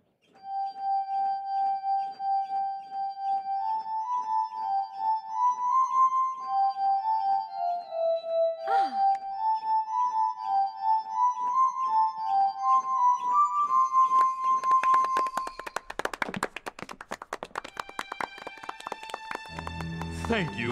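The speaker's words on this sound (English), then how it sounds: "This is an invention of Dr. Franklin's called the glass harmonica" A glass harmonica of rotating glass bowls turned by a crank sounds clear, sustained glassy tones in a slow flowing melody, then turns to scattered clinks and taps near the end.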